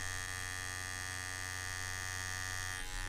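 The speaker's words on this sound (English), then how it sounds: "It's kind of loud for a pen machine" A CNC X-WE tattoo pen machine runs at 7 volts, giving off a steady, loud electric buzz with a constant hum that holds unchanged throughout before a slight shift near the end.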